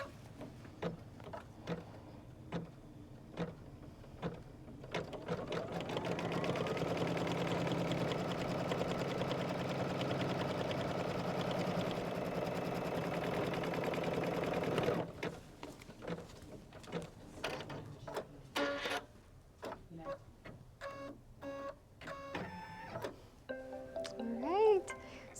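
A sewing machine runs steadily for about eight seconds while stitching a quilt block, preceded and followed by handling clicks and rustles, with a voice and other talk around it.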